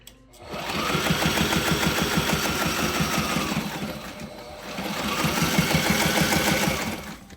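A sewing machine stitches boat enclosure vinyl in reverse, running in two sustained bursts of rapid, even stitching with a brief slowdown in between, close and loud with no talking.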